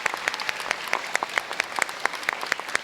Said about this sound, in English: So another huge round of applause for these kids.